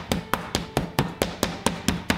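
A meat tenderizer hammer pounds steak in a kitchen, ten sharp thuds in a quick even rhythm, each impact close and punchy with a short fleshy slap.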